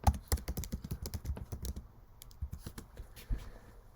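Rapid, uneven keystrokes on a computer keyboard, close and fairly quiet, clattering in bursts for a few seconds with a brief pause and a final harder tap.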